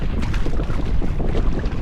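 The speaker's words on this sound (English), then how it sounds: "It's gusting." Gusting wind buffets a canoe on a lake, a steady loud roar of broadband wind noise with low rumbling microphone buffeting throughout, no voices.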